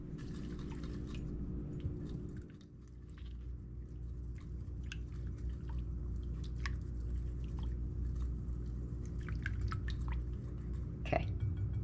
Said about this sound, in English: I'm going to give that a whisk before I stick the mayonnaise and the cheese in